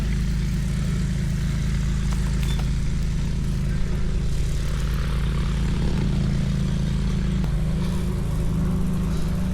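A propeller tow plane flies over a glider airfield in a valley, its engine drone steady and moderately loud throughout, with no voices.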